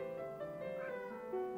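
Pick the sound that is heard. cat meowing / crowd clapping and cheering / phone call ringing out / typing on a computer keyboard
cat meowing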